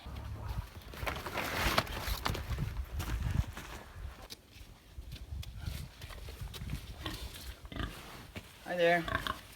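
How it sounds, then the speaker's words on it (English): Pigs on a homestead grunt and oink at winter feeding time, with hooves shuffling nearby, while a person talks over them. A sharper cluster of squeals comes near the end. "Hi there, piggies. Are you happy now?"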